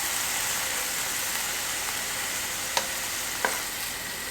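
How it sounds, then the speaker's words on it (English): Ground beef frying in a pan gives a steady, even sizzle, broken by two sharp scraping taps as the meat is flipped over; no one talks. "So you can see it's mostly cooked, and then I'm just gonna start flipping it over."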